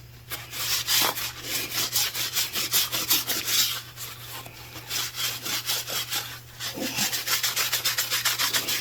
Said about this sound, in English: I like to just take and wipe off this glue, a little bit of glue that squeezes out